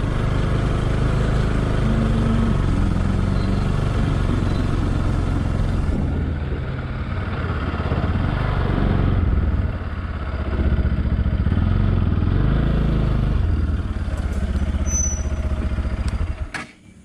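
Motorcycle engine running steadily and loudly throughout a ride near Barunei Hill in Khordha, with a continuous close engine drone that cuts off abruptly at the very end.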